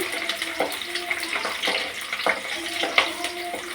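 Chopped onion sizzles in hot oil as tempering for a tamarind fish curry, a soft continuous crackle close by with scattered sharper pops and light stirring clinks, no talking.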